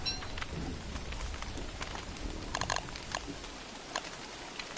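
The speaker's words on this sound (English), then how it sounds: "Oh no, rain!" Rain in the video game Don't Starve, a soft patter of drops with scattered brighter ticks and a few faint chirps on top, steady and moderately quiet, with no talk.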